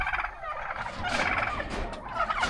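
Turkeys kept alongside chickens on a farm gobble in a close, loud, warbling burst that rises and falls over a couple of seconds, with no voices.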